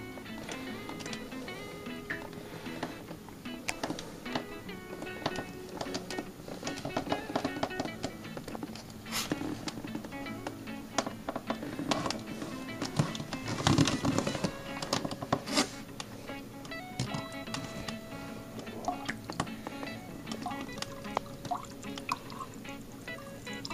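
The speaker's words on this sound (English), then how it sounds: "You can see me pouring the juice into the bucket." Riesling juice concentrate from a wine-making kit streams and drips steadily into a bucket, a soft continuous liquid pour with small splashes lasting throughout, close and moderately quiet.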